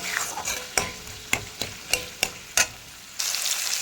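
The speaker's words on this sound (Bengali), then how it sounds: "দিয়ে টমেটোটা আমি ভালোভাবে কষিয়ে নিচ্ছি।" A spoon scraping and stirring tomatoes with salt as they sauté in a pan, in a steady series of distinct close strokes over a soft background sizzle, with frying hiss swelling at the end.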